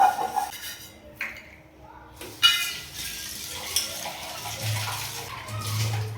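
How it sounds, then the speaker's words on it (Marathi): Brass and copper pots being scrubbed by hand during washing, with faint scraping, a few clinks of metal and running water, the sound moderate and fairly close with brief louder knocks. "हे बाकीचे भांडे मी घासून घेते आहे"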